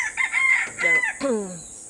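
A rooster crows up close, a loud, wavering cock-a-doodle-doo in a few rising and falling segments, with nothing else around it.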